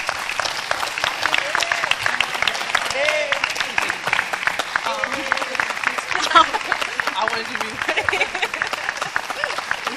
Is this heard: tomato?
no